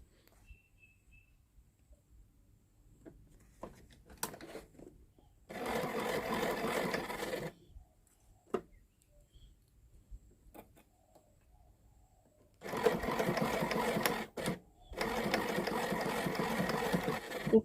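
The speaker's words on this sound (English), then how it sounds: "start from the right end that have a longer tail of the waistband and then sew all around." Sewing machine stitching the thick waistband of a box-pleated skirt, running in two long steady bursts, with pauses between them filled by small handling clicks, close and loud with no talk.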